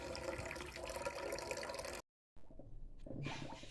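Homemade wine fermenting after the pressed juice was set for a second ferment, giving off a quiet, watery bubbling and gurgling that briefly cuts out to silence before resuming softly.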